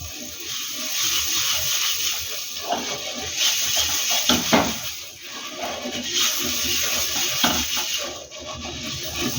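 Half an onion rubbed across an oiled dosa pan, a continuous wet scraping and sizzling scrub with rhythmic strokes, close and fairly loud.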